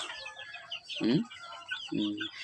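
Chickens cluck close by in two short, throaty bursts about a second apart, with faint background noise between them.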